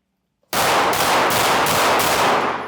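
A handgun fires during a close-quarters shooting drill, a sudden loud start followed by rapid sharp reports, roughly four or five shots evenly spaced over two seconds, with no voices.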